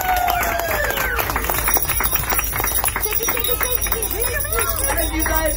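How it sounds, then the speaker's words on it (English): Passengers clap and cheer on a festive Polar Express Christmas train ride, a busy mix of applause and excited children's voices with a jingling bell under it, lively and close. "And now, a round of applause to you guys and your Christmas spirit"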